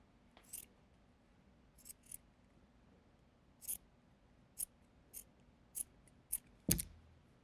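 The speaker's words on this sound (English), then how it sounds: "I'm actually going to cut this piece of fleece really thin" Quiet, close scissor snips cutting a thin strip of fleece for a craft project: a run of about ten short, separate clicks at irregular spacing against near silence, with one slightly louder snip near the end.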